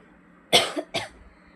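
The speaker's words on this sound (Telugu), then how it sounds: "నాకైతే దగ్గు వస్తుంది." Two short coughs, the first sharp and followed by a small throaty catch, the second slightly softer, close to the microphone in a quiet room with no talk around them.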